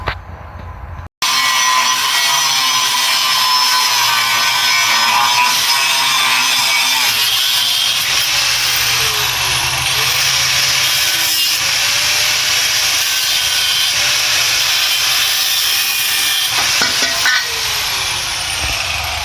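A power saw whines steadily through a metal bar for a long continuous cut, loud and harsh, starting abruptly after a brief silence.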